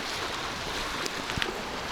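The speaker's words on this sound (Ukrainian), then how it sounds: "Море розхвилювалося." Rough Black Sea surf along the rocky shore at Odesa, a steady close wash of waves and wind with a few small splashes and knocks.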